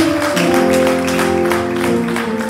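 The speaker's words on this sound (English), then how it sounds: "come on, give God a hand clap of praise." A Sunday morning worship congregation keeps up a dense, continuous wash of hand clapping for praise, with sustained organ or keyboard chords ringing underneath throughout.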